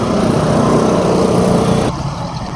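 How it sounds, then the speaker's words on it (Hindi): Heavy construction machinery working at Bhati Chowk in Lahore, a loud steady engine drone with a rough mechanical rumble that drops in level toward the end, no voices. "ये भारी मशीनरी के साथ कंस्ट्रक्शन की जा रही है"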